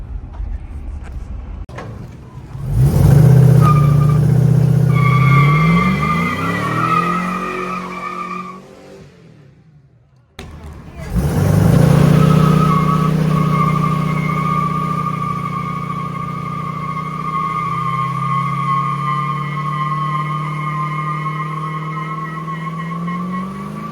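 A 1965 Ford F100 pickup with an LS-swapped V8 on a Crown Victoria frame roars loudly nearby, revving up and falling back, cutting out briefly, then firing again and holding a rough, throaty idle.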